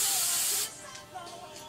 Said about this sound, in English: Hold it down in the back, push it up, and spray.